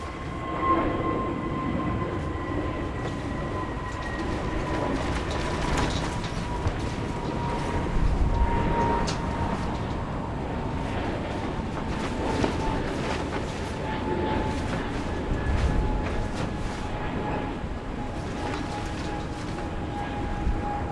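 Peach Aviation Airbus A321neo airliner departing Incheon Airport for Osaka, a continuous loud roar of jet engines with a steady tonal whine, sustained and rumbling throughout with no talk.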